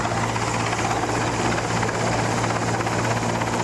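A rescue helicopter hovers over Jamnagar floodwater to lift out a stranded man, its rotor and engine giving a loud, steady, unbroken drone with no voices heard.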